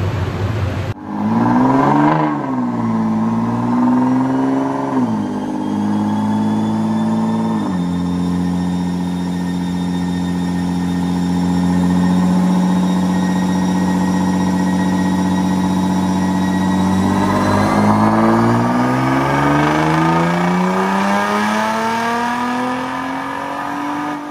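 Nissan R35 GT-R running E85 on a dyno, engine revving loudly and up close, with rising and falling pitch sweeps, a long held steady high-RPM stretch, then another climb.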